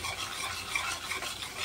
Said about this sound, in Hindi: अब इसको मसाला भुना जाएगा, कलर निकल के आएगा मसाले का भुनने के बाद।